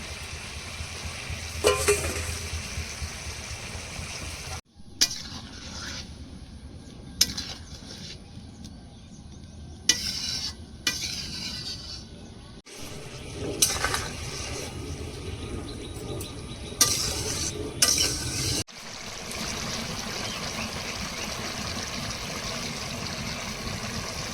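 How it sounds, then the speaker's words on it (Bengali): Fried eggs are stir-fried with spices in a pan, making a steady sizzle broken by repeated scraping stirs and several abrupt cuts. A faint background hiss runs throughout, with no talk. "ভাজা ডিমগুলো দিয়ে এবার একটু কষিয়ে নেব।"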